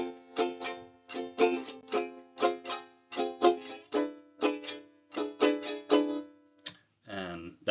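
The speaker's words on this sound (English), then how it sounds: "the chord progression with the island strum will sound like this" Ukulele playing a chord progression with an island strum pattern: repeated rhythmic down-up strums in a steady groove, clear and close, ending with a brief plucked flourish.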